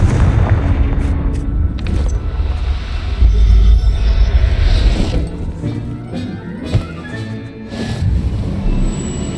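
A Confringo spell explodes in the video game Hogwarts Legacy, a loud, heavy boom with a deep rumbling blast that swells, fades and lingers amid scattered crackling debris and softer impacts, with no talk.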